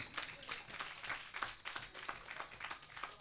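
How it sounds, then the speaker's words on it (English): Applause for the Minister at the Santa Cruz public Wi-Fi launch, a quiet, distant patter of audience clapping that holds steady throughout, with individual claps faintly distinguishable. "I want you to give Minister another big round of applause."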